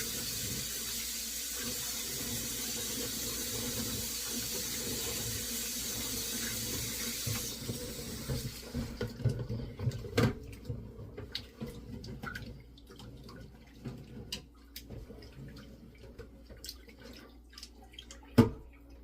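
Room-temperature tap water runs steadily into a pot of rice for about seven seconds, then stops, followed by sloshing, dripping and grains being swirled and rinsed by hand.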